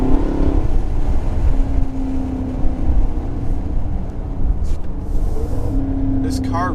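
Chevrolet Camaro engine droning and revving after a downshift to a lower gear, a steady loud cabin roar with rising pitch toward the end, heard under someone talking.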